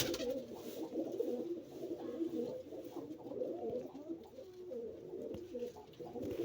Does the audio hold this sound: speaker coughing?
no